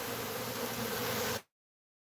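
Bees swarming around a person outdoors among trees, a steady close buzzing hum that cuts off abruptly partway through, followed by silence.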